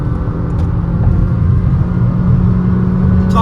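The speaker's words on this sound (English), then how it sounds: "Full acceleration, removing the beans out of the car, and it's fun." A Honda Elevate ZX CVT compact SUV's engine drones under full acceleration, a steady loud low rumble heard from inside the cabin with no talking.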